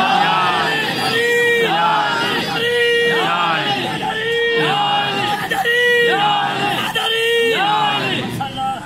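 A large crowd at a religious majlis chants in loud, rhythmic unison, a call-and-response slogan answering a speaker, repeating roughly every second and a half, voices massed and energetic.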